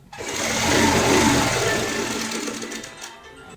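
A sewing machine runs continuously, stitching a pillow cover, its close, steady motor whir swelling then easing off before stopping near the end.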